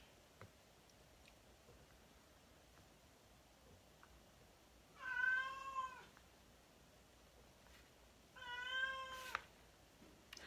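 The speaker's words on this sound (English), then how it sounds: "You guys hear my fat cat?" A fat house cat meows indoors, two drawn-out calls several seconds apart, moderately close against a quiet room with faint ticking.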